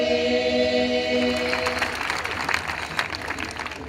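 A church congregation breaks into applause as sustained musical tones fade, the dense clapping swelling in after about a second and continuing loud and close to the end.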